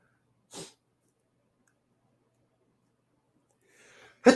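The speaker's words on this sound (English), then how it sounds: "Don't you love it when there's a sneeze trying to come on" A single sharp sneeze, then quiet, a brief sharp intake of breath, and a second loud sneeze at the end, close to the microphone.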